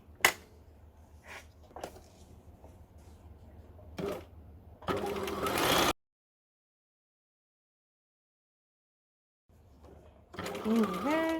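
A sewing machine stitching along the edge of a garment, with short motor bursts and a longer run of rapid needle chatter, then a pause of silence before it starts again, while a voice talks quietly in places.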